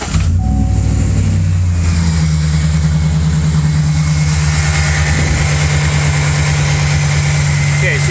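A GM pickup truck engine cranks and catches, then settles into a steady, loud idle with a rhythmic low rumble and vibration that carries on throughout, during low-oil-pressure checks with the valve area exposed.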